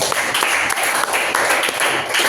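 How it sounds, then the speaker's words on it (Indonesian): Dense, close applause fills a junior high school classroom in Kupang as students clap for a group, a steady rush of many hands with small surging bursts. "kita kasih tepuk tangan ya"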